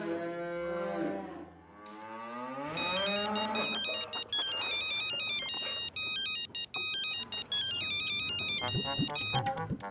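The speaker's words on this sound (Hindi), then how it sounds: "मैं नाथा काका को फोन करता हूँ।" A phone rings with a bright electronic ringtone melody, fairly loud and close, after a brief wavering tone at the start.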